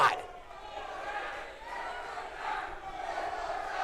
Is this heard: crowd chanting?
yes